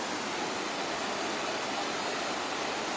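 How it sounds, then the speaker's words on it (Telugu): Water flows steadily below Ramasari waterfall in the Lankamala forest of Kadapa district, a broad, continuous rushing hiss at an even level with no voices. "ఇందాక Ramsar water fall up side వచ్చాం కదా, ఇది వచ్చేసి డౌన్ సైడ్ ఫ్లో"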